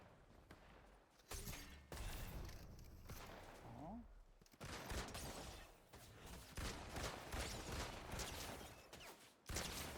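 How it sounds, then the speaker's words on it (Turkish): Bursts of gunfire crackle through a noisy Fortnite Zero Build game soundscape, with sharp loud shots near the end and a voice talking at times. "Gidiyorum silah sesine doğru."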